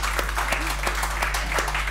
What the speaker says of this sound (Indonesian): Karena itu saya ingin sekali lagi tepuk tangan untuk Dayakan Indonesia.